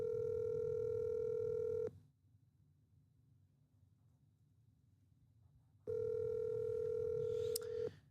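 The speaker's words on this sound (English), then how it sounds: "Sometimes people don't pick up the phone" An unanswered phone call on a live telethon gives two long, steady ringback tones, each about two seconds, separated by a pause of several seconds with faint background hum.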